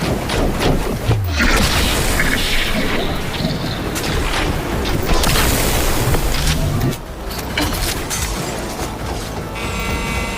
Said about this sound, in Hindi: वो मिसाइल चला रहा है।